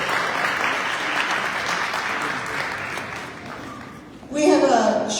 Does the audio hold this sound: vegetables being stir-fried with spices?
no